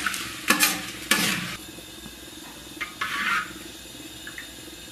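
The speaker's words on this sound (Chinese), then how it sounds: "接下来咱们把冰糖炒至融化，炒至枣红色冒泡" Rock sugar stir-fried in an iron pan until melted and bubbling for braised beef ribs, heard as a few bursts of scraping stirring and sizzle, loud near the start then quieter, with short pauses between.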